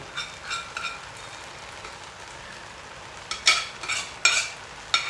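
A spoon stirs prawn pulao in a pan, giving a soft background hiss broken by several scraping, clinking strokes that grow more frequent toward the end, close by and with no speech.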